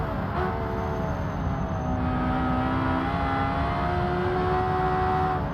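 Engine of a van in the racing game Automation, revving hard with tonal harmonics that sweep up and down as gears shift, including a downshift, loud and continuous with no voices.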